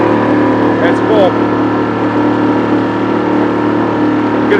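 The engine note of an outboard motor on a drift boat holds a loud, constant hum close by, with someone talking over the steady running.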